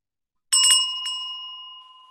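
An inexpensive handbell used as a Montessori bell is struck a couple of times in quick succession, a bright close ring that lingers and slowly fades, with no voices.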